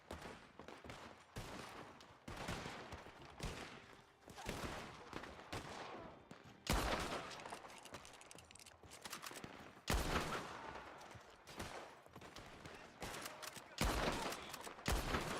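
Gunfire rattles through a Red Dead Online shootout, repeated sharp shots in bursts at irregular intervals over a dense, fairly quiet background.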